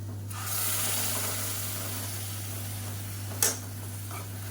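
A tomato and coconut paste sautés in a pan, giving a soft steady sizzle with a faint low hum underneath and one short scrape of a spoon partway through.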